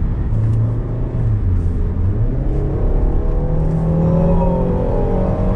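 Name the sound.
SUV exhaust sound heard in cabin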